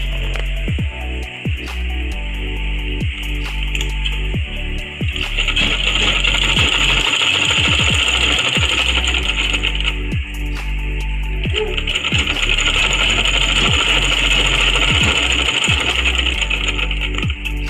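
A sewing machine test-stitching fabric after a bobbin thread fix, its motor whirring loudly and close with a fast, steady mechanical clicking of the needle action, pausing briefly and then running on, no speech.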